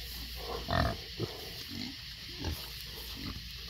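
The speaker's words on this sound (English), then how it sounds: "Wolverine, get the pigs out of here" Farm pigs grunt in short, low bursts, a few scattered snorts spread over a few seconds, fairly close, with a steady background hum and no talking.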